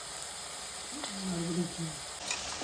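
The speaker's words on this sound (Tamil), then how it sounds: "இந்த பாலக்கீரையை சேர்த்துக்கிட்டு எண்ணெயில் கொஞ்சம் இப்படி வதக்கிக்கலாம்" Chopped spinach sizzles in hot oil with a constant soft hiss, while a voice murmurs briefly in the background.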